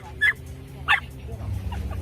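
A friendly dog barks twice in quick succession outdoors near a Walmart parking area, short sharp yips over a low steady background rumble.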